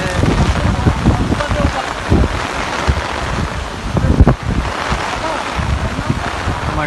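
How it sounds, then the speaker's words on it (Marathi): Strong wind batters a garba festival pandal tent, producing loud, continuous blustery rumbling with surging gusts close to the microphone. A voice talks underneath. "मंडपाला चारी साईडनी एवढा सपोर्ट दिला आहे तरी पण मंडपाला वारा बघा किती आहे."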